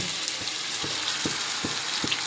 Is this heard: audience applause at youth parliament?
no